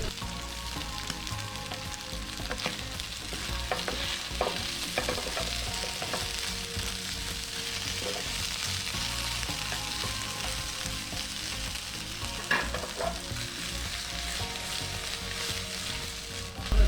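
Tuna fish frying in a pan with chili flakes while being stirred: a steady, close, continuous sizzle and crackle with occasional scraping stirs, no voices.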